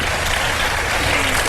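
A studio audience at a live Ramadan iftar broadcast claps, a dense, steady wash of applause throughout the short moment.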